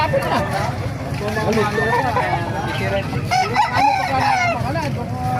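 Roosters crow repeatedly amid busy background chatter and clucking at a chicken market in Calumpit, Bulacan, several birds calling over a crowded, noisy scene with people talking throughout.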